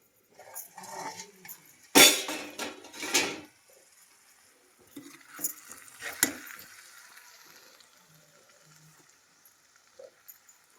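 Onions, green chilies, tomatoes and coconut pieces frying in a pan give off a soft sizzle. Several sharp clanks and scrapes of a utensil against the pan come in between quieter stretches, with no talking.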